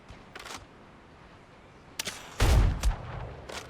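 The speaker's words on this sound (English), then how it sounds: "I didn't think the gunfire would be that good in this game" Gunfire in the video game Crosswind: a couple of sharp, loud reports with a heavy boom in the middle, separated by quieter clicks and ambient noise.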